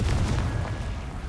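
A Confringo fire spell explodes in Hogwarts Legacy with a deep, close boom that rumbles briefly, loud from the start and then gradually fading, with no voices.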